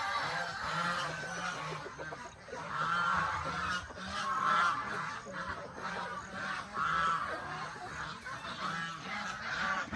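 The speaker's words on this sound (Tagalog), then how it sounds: "Tapos ito yung mga manok natin. Kung makikita nyo, dito yung mga malalaki nating mga tandang." Chickens and large roosters on a mountain farm cluck and call in a busy flock, with honking from nearby geese mixed in, a continuous chorus of overlapping bird calls at moderate distance.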